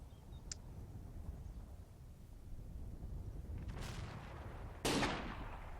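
Sniper rifle shots ring out in the war game Combat Mission: Red Thunder, two sharp cracks a second apart over a low rumbling battlefield ambience, the second louder.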